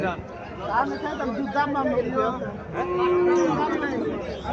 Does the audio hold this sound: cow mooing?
yes